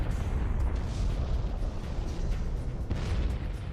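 A sustained, rumbling explosion effect standing in for a Type II supernova, a dense roaring wash of low boom and crackle that stays loud and steady throughout, with no voices.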